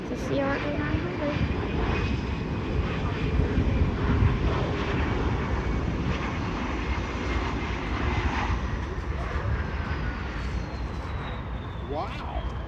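A fixed-wing airliner landing at Charlotte airport (CLT), its engines droning steadily and loud with a broad roar, easing back in power toward the end; voices speak faintly underneath.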